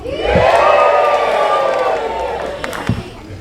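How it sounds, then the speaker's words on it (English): Crowd in a theatre cheers loudly with a rising, sustained shout that slowly fades, a few sharp claps and knocks scattered through it. "cheer when the good guys come on"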